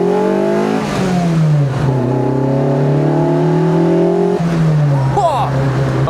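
A Lotus Elise 340R engine revs hard through the gears, the pitch climbing, dropping at each shift and climbing again, loud and close, with a voice speaking over it.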